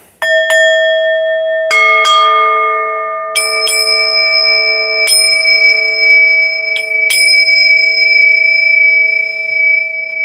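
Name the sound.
bells ringing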